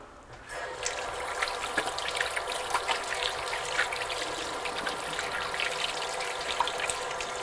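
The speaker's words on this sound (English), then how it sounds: "Wash my hands" Hands washed under a running kitchen tap, a steady soft trickle of water with light splashing and occasional drips, fairly quiet and close.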